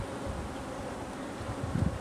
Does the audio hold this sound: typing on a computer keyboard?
no